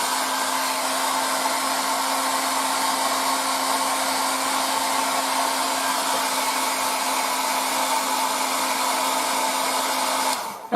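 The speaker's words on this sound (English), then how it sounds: "And let's make one more time with the dryer." Hair dryer blowing steadily and loudly at close range while drying paint on a 1:35 scale Takom Type-69-II tank model, a constant whirring hiss with a low motor hum, cutting off abruptly at the very end.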